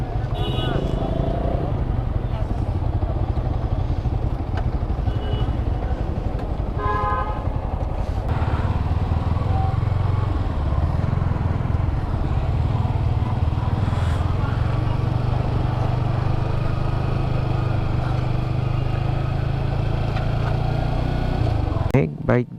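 Motorcycles on a highway, with a Yamaha R15 V3 among them, give a steady close engine drone and wind rush while people talk over it, and a few brief toots sound.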